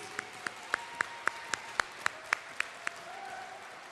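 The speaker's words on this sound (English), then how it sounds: "let's give the mayor a round of applause for 13 town hall meetings" About a dozen sharp, evenly spaced claps ring out at a town hall budget meeting for seniors, a quiet, regular rhythm from what sounds like one or a few people, with a soft room background.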